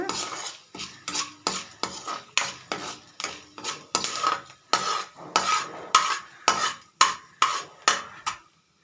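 Ingredients dry-roasting in a pan for an ajwain-leaf chutney, a spatula scraping and clinking against the metal in a steady rhythm of about sixteen strokes, close and fairly loud with no talking.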